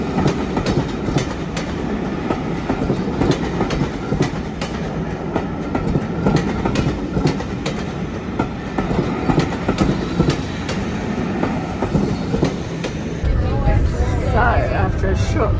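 A steam train rolls along with a constant rumble and rhythmic clickety-clack of wheels on track, loud and close, with faint voices mixed in.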